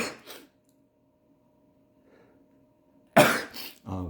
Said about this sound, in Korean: 제가 한기 알러지 때문에 되는 거는 재채기가 나오네요.